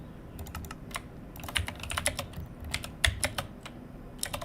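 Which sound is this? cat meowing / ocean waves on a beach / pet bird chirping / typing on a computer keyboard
typing on a computer keyboard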